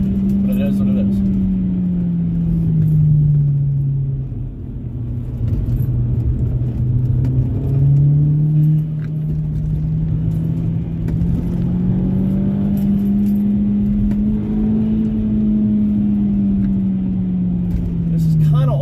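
An Audi S4 held in second gear on a back road, its engine pulling hard with a loud, close, steady drone whose pitch dips and then climbs slowly as the revs build.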